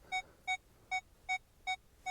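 Metal detector signal tone: six evenly spaced, clear electronic beeps, each short and bright, repeating steadily about every 0.4 seconds over faint background hiss, with no talking.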